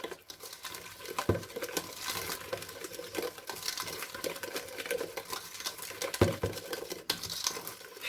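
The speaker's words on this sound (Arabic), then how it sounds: "غنخلطو هاد الخليط مزيان." Shortbread dough being mixed in a bowl for chocolate-and-jam sablés, a steady close scraping and patting texture with a few sharper knocks against the bowl, no voices.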